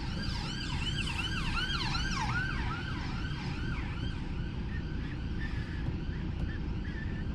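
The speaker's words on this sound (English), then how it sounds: "I think this one's an ambulance" An ambulance siren wails in repeated rising and falling sweeps over a steady rumble of London traffic, loud at first and then fading as it moves away.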